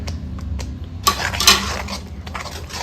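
Spoon stirring turmeric, Kashmiri chilli and coriander powders into egg curry masala in a pan, with scraping and clinking strokes, two louder clanks near the middle, over a steady low kitchen hum.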